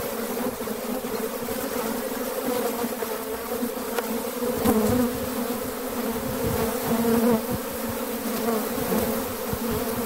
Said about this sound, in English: the bees are all over my phone right now